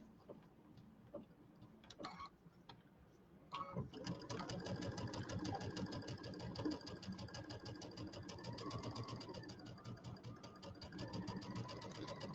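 A domestic sewing machine clicks softly a few times as the needle drops, then runs in a steady, close, rapid stitching rhythm to tie off the thread while piecing a Kimberbell table topper.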